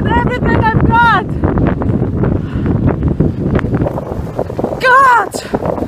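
A strong Patagonian wind roars and buffets the microphone with a loud, continuous low rumble while someone pushes slowly toward Chile. Strained, wavering vocal sounds break through briefly near the start and end.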